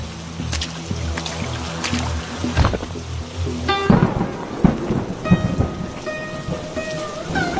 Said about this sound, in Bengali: বৃষ্টি হচ্ছে এমনি